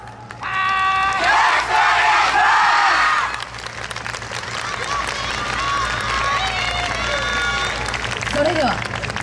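A festival crowd at a yosakoi dance performance in an outdoor park claps and cheers, with a strong burst early that eases into steadier clapping, while a voice calls out and tonal music plays over it.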